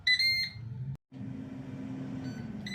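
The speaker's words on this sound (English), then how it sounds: "And we've beeped." A Ninja dual air fryer beeps as its cook time ends: a few close, clear electronic beeps, then a short gap, followed by a steady low hum with further faint beeps near the end.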